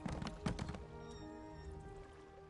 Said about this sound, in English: call my horse out